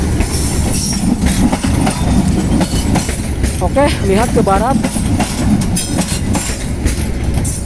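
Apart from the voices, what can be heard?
train passing by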